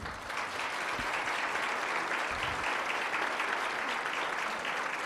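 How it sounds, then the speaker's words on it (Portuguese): Audience applause fills a municipal council's ordinary session, a dense, steady wash of clapping from many hands that holds at an even level throughout, with no talk over it. "eu queria pedir a vocês uma salva de palmas para ele"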